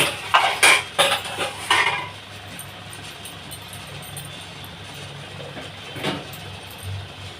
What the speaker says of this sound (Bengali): এবার আমি এটা থালা দিয়ে চাপা দিয়ে দেবো।